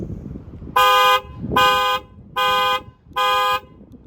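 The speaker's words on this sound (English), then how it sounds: "hold down your alarm button. This is what will sound." A Toyota Camry's alarm, set off by holding the key fob alarm button, blares in four loud, even bursts, each about half a second long, separated by short gaps with faint background noise.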